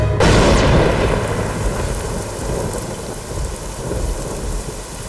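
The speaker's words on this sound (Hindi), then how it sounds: "अम्मू! इतनी बारिश में कहाँ जा रही हो?" In a South Indian action-romance film scene, a sharp crack of thunder breaks at the start and rumbles away beneath a loud, steady downpour of heavy rain.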